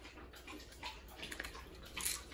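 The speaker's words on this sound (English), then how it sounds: "do you hear my dog drinking water in the background?" A dog laps water from a bowl somewhere in the background, faint wet slurps and licks arriving in quick irregular bursts in an otherwise quiet room.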